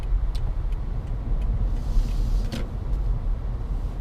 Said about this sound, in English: As long as the engine keeps running, we're okay.